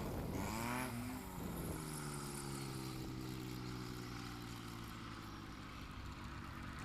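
A STOL airplane's propeller engine is throttled during a gusty crosswind landing practice in the Appalachian Mountains, its droning pitch sweeping up then down and settling into a steady roar that stays loud and continuous throughout.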